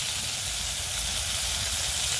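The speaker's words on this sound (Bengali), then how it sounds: "মশলাটা ভালোভাবে কষিয়ে নিই।" Masala of chili, turmeric, coriander and cumin paste with salt frying in a pan with a little water, a steady close hissing sizzle without a break, with no talking.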